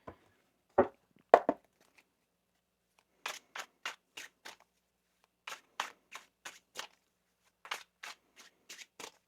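Crisp bursts of tarot cards being shuffled, a couple of sharp riffles followed by several quick rhythmic clusters, close and clear with no talking.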